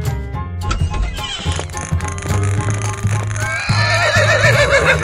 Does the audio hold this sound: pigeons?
no